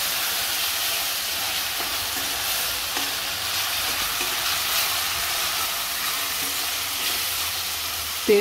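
Green spice paste of chilli, coriander, ginger and garlic sizzling and frying in oil for a Koli-style mutton curry, a steady loud hiss filling the whole stretch with a brief clatter at the end.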